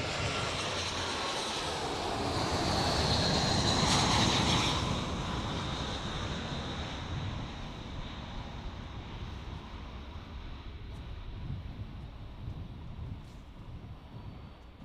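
A passenger plane lands at Gold Coast Airport, a steady broad engine roar that swells then slowly fades as it rolls out, heard alone without voices.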